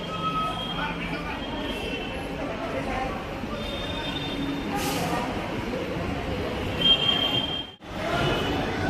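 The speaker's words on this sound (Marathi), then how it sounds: "ट्रेन आलेली आहे, आता ट्रेनमध्ये चढायचं आहे।" A Mumbai local train rumbles into a station with a steady rolling roar and high metallic squeals, people talking over it nearby, then a brief dip before the noise resumes.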